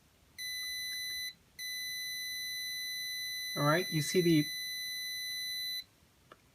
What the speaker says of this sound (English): the buzzer will sound as soon as my hand is with less than 2 inches from the sensor